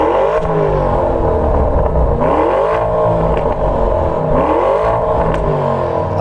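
Lamborghini engine on its standard, non-upgraded exhaust revving hard, loud and continuous, with rising and falling pitch sweeps as the revs climb and drop in repeated pulls.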